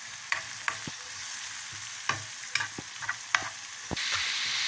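Onion and garlic sautéing in a pan for a Filipino chop suey, a soft steady sizzle punctuated by sharp spatula scrapes and taps at irregular intervals, rising to a louder hiss at the end, close and without speech.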